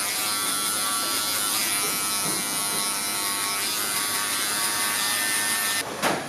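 A WAHL hair clipper fitted with a half guard buzzes steadily and close up during a barber's fade blend, its motor hum constant with slight shifts as the lever opens and closes, ending with a brief knock.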